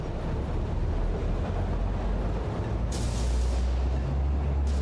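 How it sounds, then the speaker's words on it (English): A train rolls steadily through an industrial factory world in the game Satisfactory, a continuous low rumble with rail clatter that swells slightly louder near the end, with no talking. "You're seeing trains around all the time."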